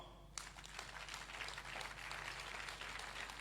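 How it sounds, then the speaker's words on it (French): A closing-ceremony audience at an international colloquium applauds the professors, steady dense clapping that rises abruptly after a brief quiet start and holds at an even level throughout. "vous pouvez vous lever pour que l'auditoire puisse vous applaudir"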